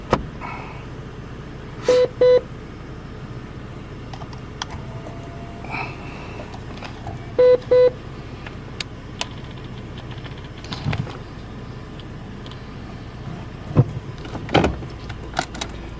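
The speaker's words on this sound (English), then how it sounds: "you just push it and it comes up. And then you push it again" Power window in a used car on a dealer lot being run up and then down, heard as two short motor whirs several seconds apart in a quiet cabin, with scattered small clicks and handling noises around them.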